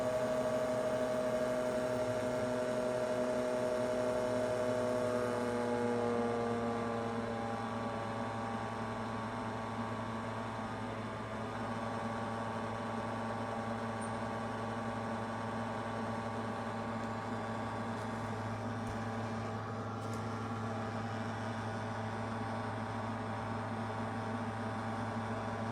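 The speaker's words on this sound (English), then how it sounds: "every time I start a new print, I get this sound." A 3D printer starting a print, producing a steady mechanical hum with droning motor tones that shift slightly in pitch, continuous and fairly close for the whole stretch with no talking.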